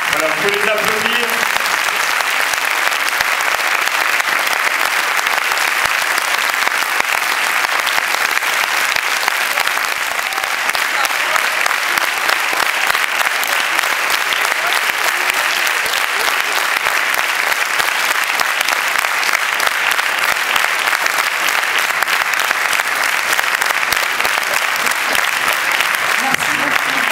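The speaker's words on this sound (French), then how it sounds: "vous pouvez les applaudir." Sustained audience applause fills a film premiere screening of a French comedy, steady and dense clapping throughout with a faint crowd murmur and no pauses.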